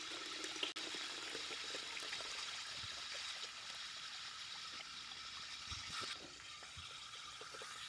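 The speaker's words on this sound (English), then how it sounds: "That is 0 ppm water coming out right now." Water streams steadily out of a deionization filter cartridge with carbon pre-filter, a continuous hissing, splashing flow heard close up and at moderate level, with a brief knock early on.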